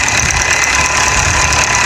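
A Mahindra Arjun 605 tractor hauls two 18-foot trolleys up a sand dune, its engine roaring loud, close and continuous with a heavy, even rumble and no pauses.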